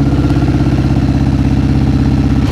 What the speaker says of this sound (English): The fact that it's actually idling that low is impressive.